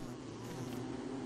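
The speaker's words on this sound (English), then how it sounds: "the bee boxes are definitely working well" Bees buzz around bee boxes in the video game Don't Starve, a steady, dense low drone that holds evenly throughout without pauses, and no one talks over it.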